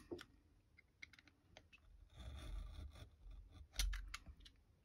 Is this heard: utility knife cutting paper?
yes